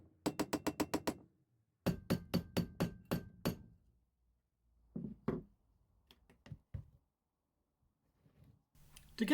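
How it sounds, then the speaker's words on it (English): Silver ring being shaped on a mandrel with a shaped soft hammer: two quick bursts of evenly spaced, crisp taps, then a few scattered, softer knocks after a pause, close and clear with no talking. "This is done with a special mandrel and a shaped soft hammer."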